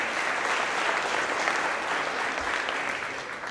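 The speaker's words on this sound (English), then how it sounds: "Let's give them a round of applause." Employees at a company's monthly celebration applaud colleagues being recognized: a continuous, evenly loud patter of many hands clapping indoors, easing only slightly toward the end.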